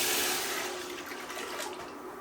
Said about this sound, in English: I'm going to kick this up to high, add in my stock, bring that to a boil.